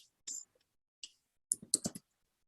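A computer keyboard clicks in short bursts of keystrokes, close and fairly quiet, with brief pauses between groups of taps and no talking.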